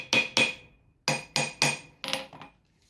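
A hammer strikes an anvil on a new anvil stand, six sharp metallic blows in two quick clusters of three, each ringing briefly with a bright clang.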